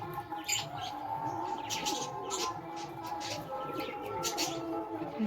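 Soft pigeon cooing comes from a colony setting, faint and somewhat distant, mixed with light chirps and a steady background hum; no clear speech is heard.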